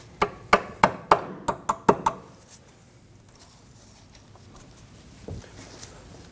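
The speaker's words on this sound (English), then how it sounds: "And then we'll just tap it in using a hammer." A hammer taps a shim into place on a 2003-2006 Subaru Baja front brake hose, sharply about eight times in quick, even succession, then stops, leaving quiet room noise and one faint knock.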